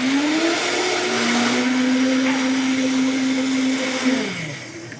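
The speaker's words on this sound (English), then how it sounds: "We're just gonna put it on the blender." A kitchen blender whirs steadily as it blends tart Wožapi sauce of berries and syrup, its motor holding a constant whining pitch for about four seconds before winding down near the end.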